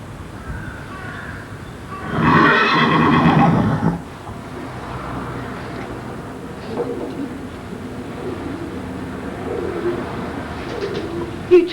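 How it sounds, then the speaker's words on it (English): A horse whinnies in a loud burst near the start, then quieter outdoor ambience with faint birds and low voices follows. "This is a horse here, by the way."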